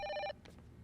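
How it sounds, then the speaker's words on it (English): An old telephone bell rings in the horror game Project Zero 5, a short clear trill that cuts off abruptly, followed by quiet room tone. "Phone call?"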